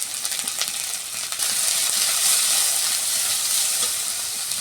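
Onion and chilli paste frying in a pan, a bright hissing sizzle that grows louder and steadier midway, with faint stirring underneath.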